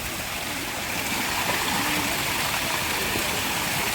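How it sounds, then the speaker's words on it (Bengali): A mountain waterfall stream on the climb to Chandranath hill at Sitakunda rushes in a steady, close broadband roar of falling water, continuous and alone without speech. "আর এটা আমাদের সেকেন্ড ঝর্ণা, তাই তো?"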